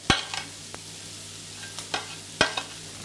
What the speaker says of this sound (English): You're throwing it, you can hear the sizzle.